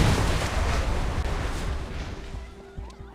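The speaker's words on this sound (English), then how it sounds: "A deafening explosion drowns out the music and ensuing screams." Explosion in Love & Deepspace, a loud broad roaring blast that fills the opening seconds, then fades into rumbling debris with faint tonal music remnants.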